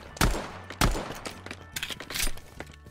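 Video game gunfire: two heavy, close shots open the clip, followed by a ragged run of lighter rapid shots and thumps, loud and alone, with no talking.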